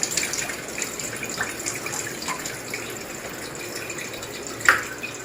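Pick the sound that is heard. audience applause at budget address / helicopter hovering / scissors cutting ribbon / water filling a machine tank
water filling a machine tank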